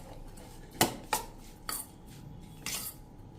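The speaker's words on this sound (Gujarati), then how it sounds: "આ રીતે ઉછાળીને તમારે સરસ મિક્સ કરી લેવાનું છે" Mango pieces with salt and turmeric are tossed in a metal vessel, giving four sharp clattering knocks at irregular intervals in a quiet room.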